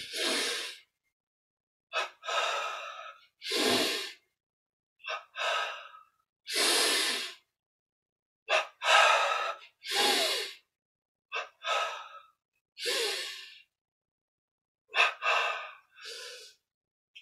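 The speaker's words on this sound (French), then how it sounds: "C'est parti, double inspire." Repeated double inhalations during a yoga breathing exercise, short paired sniffing breaths followed by exhales, in a rhythmic series of about a dozen bursts separated by silence, close and clear with no talking.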